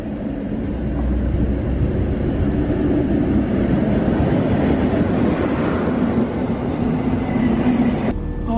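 A steady, continuous rumble of a train in motion, heard from inside the carriage, with a constant low roar and no speech.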